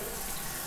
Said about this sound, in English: Let's run some water through it.